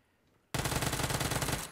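Rapid automatic gunfire from a weapon in an online shooter game bursts in loud and close after a quiet moment, a sustained rattling stream of shots that cuts off abruptly.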